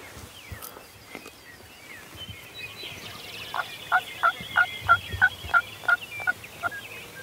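A Merriam's wild turkey gobbles on Montana public land, a rapid string of about eight rattling notes rising out of quiet surroundings at moderate distance in the second half.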